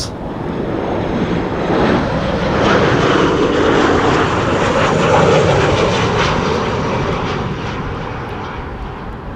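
Airplanes arriving in strong wind at Amsterdam Schiphol Airport make a loud, sustained engine roar that swells gradually and then slowly eases, with no voices over it.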